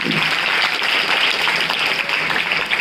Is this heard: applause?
yes